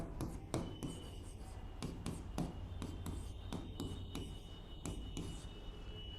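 Pen or pencil scratching on paper while letter codes are worked out by hand, with light continuous scribbling and frequent sharp taps and strokes, close up over a low background hum.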